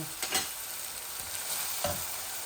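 Eggs frying in a thin nonstick pan give a steady soft sizzle, with a few gentle stirring scrapes near the start and again toward the end.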